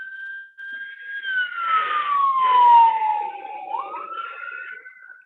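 An ambulance siren wails loud and close, its tone sliding steadily downward then jumping back up, with vehicle noise underneath and no talking.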